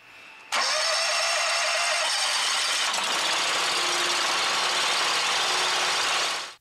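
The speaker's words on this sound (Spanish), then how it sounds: "Para expulsar el paquete, encienda nuevamente el motor" A BigFoot BF300 plastic baler's engine starts up abruptly, then runs steadily and loudly at idle with a continuous mechanical drone and rattle, ending with a sudden cutoff.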